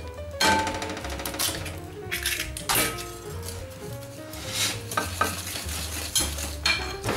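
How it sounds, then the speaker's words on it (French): Eggs are stirred into brown sugar for a chestnut flour cake, a utensil clinking and scraping against a bowl in a steady, close rhythm with no speech. "casser nos œufs dans le sucre. Donc là on ne pourra pas le blanchir bien entendu, puisque il est brun. Mais on va bien les mélanger."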